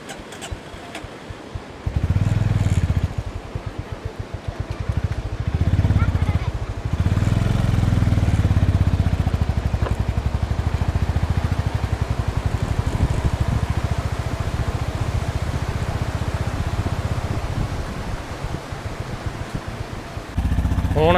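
A motorcycle engine drones steadily nearby, rising and settling as it rides through village streets, with occasional rattles and faint voices in the background.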